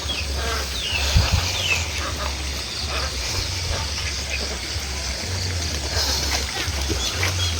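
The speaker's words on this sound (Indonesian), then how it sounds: "airnya sangat curcor sekali" Steady water flowing near a house beside rice paddies, a continuous rushing and splashing wash with a low rumble underneath, even and close throughout.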